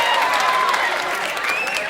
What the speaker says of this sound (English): Another round of applause, if you wouldn't mind, conference.